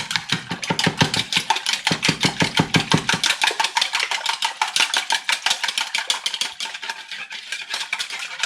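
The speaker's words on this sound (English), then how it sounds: "and then I'll give it a whisk" A whisk beating olive oil, quail eggs and milk in a bowl, a fast, even rhythm of close, loud clattering strokes that continues steadily throughout, slightly lighter in the second half.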